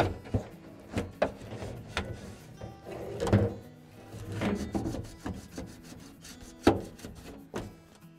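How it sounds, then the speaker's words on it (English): A knife cuts into perforated plastic irrigation pipe for a raised garden bed, producing close, irregular scraping and rubbing strokes with sharp clicks and knocks scattered throughout, fairly quiet and without talking. "just cut into this perforated irrigation pipe and just stick that through there"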